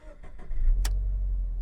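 A manual-transmission car is cranked, then its engine catches and settles into a loud, steady low idle, with a brief high click partway through.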